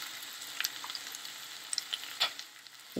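Pumpkin pieces frying in a pan and being stirred now and then, a steady soft sizzle broken by small scraping clicks from the stirring, close-up and quiet, with no voices.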